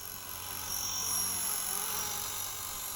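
A radio-controlled model helicopter flies nearby with a faint, steady high-pitched rotor and motor whine that swells slightly and then eases, with no voices.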